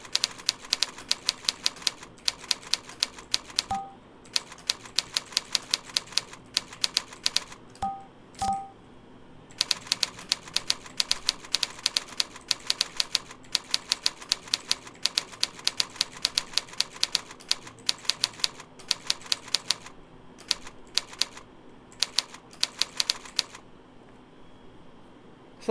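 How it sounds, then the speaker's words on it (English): Touch typing practice on a computer keyboard: close, crisp keystrokes rattle in fast steady bursts broken by short pauses, continuing for a long stretch with no one talking. "I'm again typing J instead of F."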